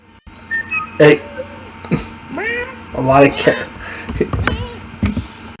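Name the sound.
cats meowing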